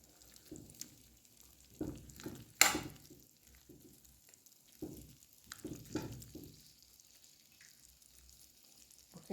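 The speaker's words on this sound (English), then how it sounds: "I add the tomatoes and I put the rest of seasoning in the frying pan and let it simmer" Tomatoes and seasoning simmer quietly in a frying pan with faint sizzling, while soft stirring and scraping knocks come through in scattered bursts.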